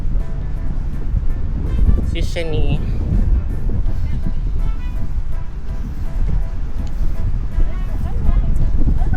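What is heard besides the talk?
strong wind at the beach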